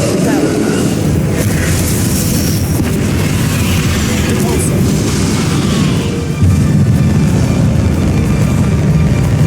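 Fiery Confringo spell blasts during a Hogwarts Legacy battle: loud, dense explosive booms and a deep rumbling roar that continue through the whole stretch, with a sharper burst near the end.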